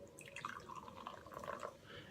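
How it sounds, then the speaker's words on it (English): Gridlock Extra White energy drink, a clear fizzy liquid, pours from a can into a glass with a steady trickling, dripping splash and soft fizz, fairly quiet and close, with no talking. "So we're going to pour some in here."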